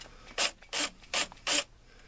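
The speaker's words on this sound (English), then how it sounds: "Now we're just going to go ahead and loosen up this clamp right here." A clamp on a sump pump riser pipe is loosened with a ratchet or nut driver, giving four short, rasping clicks at a steady pace, close up with nothing else behind them.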